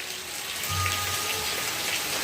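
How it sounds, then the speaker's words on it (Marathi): Continuous rain patters steadily, a broad hiss with scattered drops; a brief low hum rises and fades in the background. "तरी अजून पाऊस चालूच आहे"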